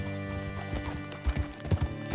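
Horse hooves clip-clop in the video game Red Dead Redemption 2, several uneven thuds building toward the end over a steady musical and ambient bed.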